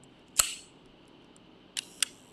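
Leica M6 film camera shutter firing, one crisp click near the start, then two more quick clicks about two seconds in, close and distinct against a quiet room.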